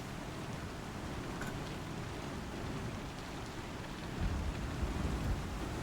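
Rain falls in a pirate video game, a continuous broadband hiss with a low rumble that swells slightly near the end, steady and unbroken, with no one speaking.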